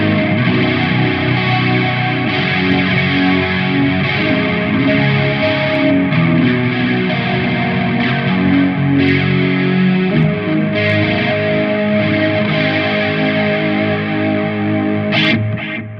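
An electric guitar played through a Hotone Ampero multi-effects unit with an analog chorus block sustains dense, distorted chords, loud and steady with a shimmering modulated tone and no talking.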